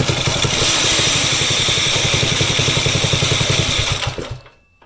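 A Predator 212 small engine with a worn clutch gear running loud and close, a steady rapid thrumming idle that holds for about four seconds and then cuts off as the engine winds down to silence.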